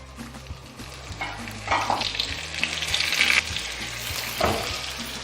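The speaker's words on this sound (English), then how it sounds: "Now we'll add the potatoes to it." Potatoes fry in melted butter in a pan, giving a steady, close sizzle and crackle with stirring and scraping noises throughout. No one speaks.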